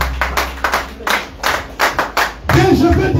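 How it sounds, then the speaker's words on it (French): Church congregation clapping in unison, a loud, steady rhythmic beat of about six claps that swells into fuller, continuous applause from the crowd. "Acclamons le Seigneur très fort."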